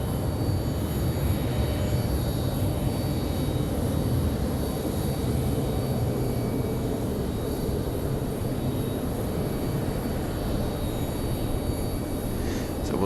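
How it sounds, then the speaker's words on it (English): Small Piper flight school planes passing over a busy airport produce a steady, loud, continuous engine drone that holds for the whole stretch without variation. No voices are heard. "Even all of the little flight school planes are coming down, the little Pipers."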